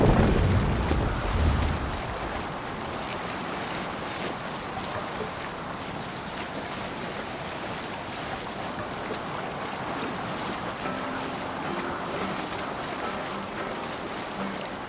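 A Viking longship sails out across open sea in Assassin's Creed Valhalla, with steady broadband rush of waves and wind throughout, a louder low swell at the start, no voices.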